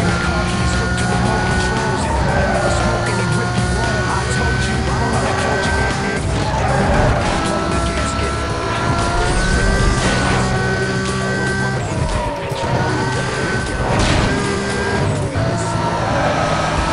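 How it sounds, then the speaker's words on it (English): Race car tires squeal and skid through a spin-out in Need for Speed: Most Wanted (2005), with a loud, continuous engine roar and wavering screeches over about seventeen seconds. "I still want to know why I spun out here"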